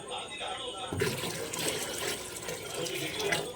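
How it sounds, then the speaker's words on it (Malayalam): Water pours and splashes steadily into a container, starting abruptly after a quieter moment and running continuously, with a voice talking faintly in the background. "നമുക്ക് വെള്ളം ഒഴിക്കാം"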